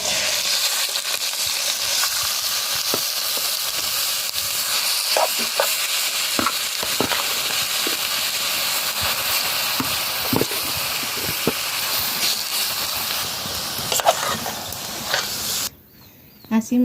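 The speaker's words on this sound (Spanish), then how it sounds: "Ahora ya le voy a agregar mis quilites." Quelites dropped into a sizzling pan for a Huasteca-style guisado, loud continuous frying hiss with scattered stirring scrapes and clicks, the sizzle dropping away abruptly near the end.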